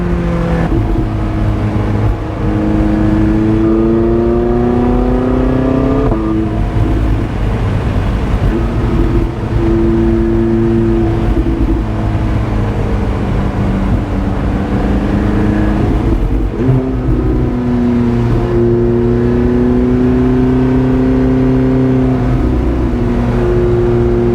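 A sports car engine revs hard through its gears on winding mountain roads in Tennessee, the exhaust note rising and falling in loud, continuous sweeps with no one speaking.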